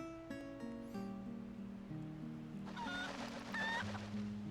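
A golden Cucco in The Legend of Zelda: Twilight Princess HD clucks in short bursts, faint and brief, over steady in-game music.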